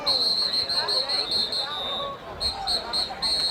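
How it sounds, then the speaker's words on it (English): A referee's whistle at a varsity football game between St. Clair and Richmond shrills in repeated short, trilled blasts over a steady hum of crowd babble. "A little late whistle."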